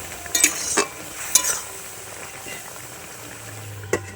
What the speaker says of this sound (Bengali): এই দেখুন আরও কিন্তু ঘাঁটবে, একটু ভালো করে নেড়ে দেবো।